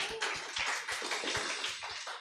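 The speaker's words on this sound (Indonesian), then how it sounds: "berikan tepuk tangan untuk kita semua" Clapping from a youth church congregation at a special musical drama worship service, a dense, fairly soft patter of many hands with scattered sharper claps.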